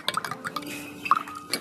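A spoon stirs sugar into yeast and warm water, making light clinks against the container and small liquid sloshes, close and quick, with no speech.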